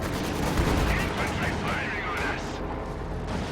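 Combat engineers fire at a sniper in Company of Heroes 2, a dense, fairly loud wash of overlapping gunfire and battle rumble that continues steadily throughout.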